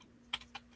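A few soft computer keyboard keystrokes, two or three isolated taps, faint and close in a quiet room with a low steady hum.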